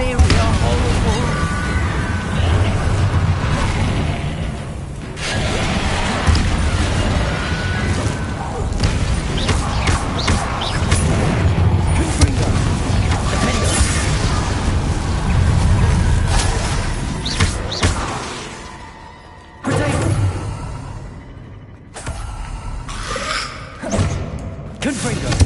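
Repeated blasting-spell explosions in the Hogwarts Legacy video game, heavy booms, thuds and crashes in rapid succession under dense game sound, with a brief lull before more impacts.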